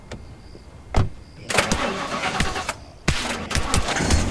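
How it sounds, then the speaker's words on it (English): A car engine in The Last Stand Aftermath cranks and catches with two loud bursts of broadband roar after sharp clicks, heard up close with no talk. "so let's just get in our car and leave."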